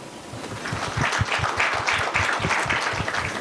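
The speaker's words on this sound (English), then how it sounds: "Have a big round of applause." A hall audience applauding at a lamp lighting ceremony during a corporate event, dense steady clapping that swells and holds for a few seconds.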